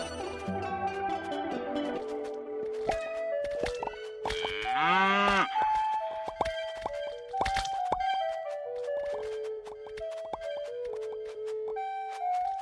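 Cows mooing in the video game Fluffy Horde: one drawn-out, bending moo rises midway over a bright, plinking game music loop with scattered light taps.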